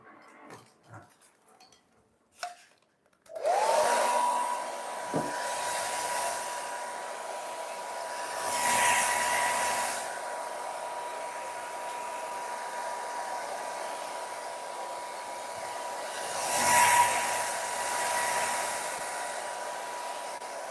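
A hair dryer blows steadily on a craft project, a loud continuous whirring hiss that swells twice as the airflow shifts, following a few quiet handling clicks at the start.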